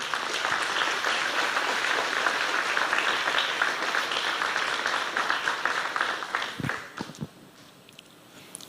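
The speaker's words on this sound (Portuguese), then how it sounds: "Você pode aplaudir ao Senhor?" A church congregation at a celebration service claps steadily and densely for about six seconds, then the applause thins into scattered claps and dies away.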